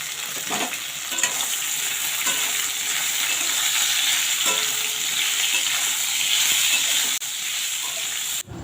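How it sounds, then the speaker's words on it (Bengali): Boiled taro stolons fry in a hot pan, giving a loud, continuous close sizzle with periodic stirring scrapes and clicks throughout, ending with a sharp knock. "লতিগুলো দিয়ে একটু ভালোভাবে ভাজবো, যাতে লতিগুলো ভেঙে না যায়"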